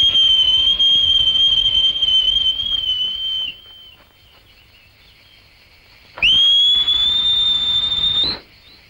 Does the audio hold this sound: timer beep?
no